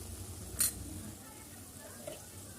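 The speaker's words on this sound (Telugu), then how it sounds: "మసాలా అంతా మంచిగా ఇట్లా నూనెలో మంచిగా వేయించుకోవాలి" Ground spice masala fries in oil in a pan for Andhra fish curry, giving a faint, steady sizzle with a brief metallic clink of a utensil early on.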